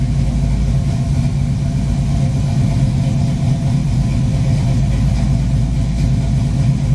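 A 1972 Pontiac Firebird Formula V8 idles loudly and steadily up close after being brought out of storage, a deep rumbling throb with a slightly uneven pulse and no talk.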